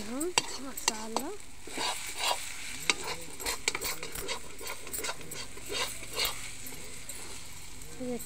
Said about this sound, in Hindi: अब डालेंगे हम मसाला,